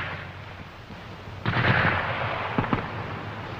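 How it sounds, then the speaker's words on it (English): German Schmeisser submachine gun in a WW2 squad attack, heard as a sudden loud burst of rapid shots followed by a couple more sharp reports against a low background rumble. "the sergeant prepares to fire confusing bursts with the Schmeisser"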